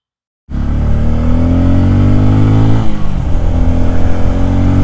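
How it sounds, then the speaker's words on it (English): A 2024 Bajaj Pulsar N250 motorcycle engine starts abruptly and runs loud and close, a steady droning roar with a slight throttle change midway. "I've been riding this motorcycle for some time."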